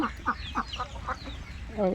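Domestic geese and ducks feeding beside a river give short honks and quacks in a quick irregular series, close by, with a person's voice talking over the calls toward the end.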